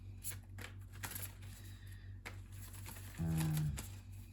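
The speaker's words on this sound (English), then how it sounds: "I'm getting a lot of feelings in my stomach when I'm shuffling these cards" Tarot cards being shuffled by hand in short, soft riffling and patting bursts, close up and quiet, ending in a slightly louder flurry.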